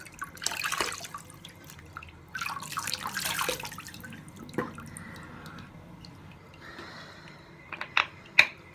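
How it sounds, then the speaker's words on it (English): Water runs into a bathroom sink in irregular splashy bursts and drips, close by, with a few sharp knocks and clicks toward the end. "just fill the sink up with some water"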